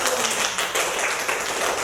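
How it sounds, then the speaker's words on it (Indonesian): Classroom of pupils clapping their hands, a brief dense burst of many hands at once, steady and moderately loud throughout, no talk over it. "Kasih tepuk tangan dulu dong."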